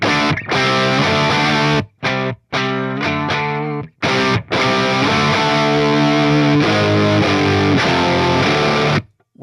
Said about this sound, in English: that's just a fantastic overdrive distortion